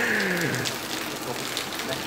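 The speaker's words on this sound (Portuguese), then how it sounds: "Como tá chovendo, né" Steady rain falls in the Sertão of Pernambuco, a dense, even hiss of water with a brief gushing swell at the start, close and continuous throughout.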